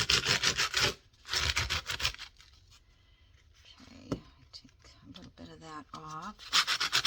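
Sandpaper rubbing over a surface in back-and-forth strokes, loud broadband scratchy bursts at the start and end with a quieter stretch between, where a few brief voice-like sounds intrude.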